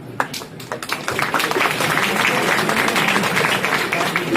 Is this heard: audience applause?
yes